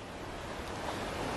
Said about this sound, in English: possibly the noise of the river being picked up by the microphone